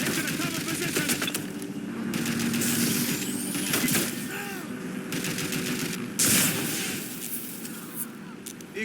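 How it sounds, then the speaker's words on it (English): Gunfire in the video game Watch Dogs Legion, dense bursts of shots and rumbling action sound over a busy game soundscape, with sharper bangs standing out around the middle. "I hear guns."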